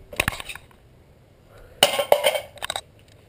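A plastic 360-round hi-cap M4 magazine thrown and hitting the ground, two separate bursts of hard clattering impacts with scattered rattles between quiet gaps.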